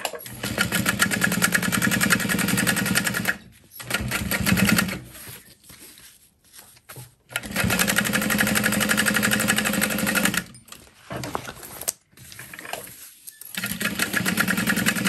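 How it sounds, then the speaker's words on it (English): A sewing machine runs in long bursts, stitching a seam along the bottom of a backpack. Its rapid whirring stops and starts with short pauses in between, close by, with no talk. "refold that on itself and sew it in place along the bottom"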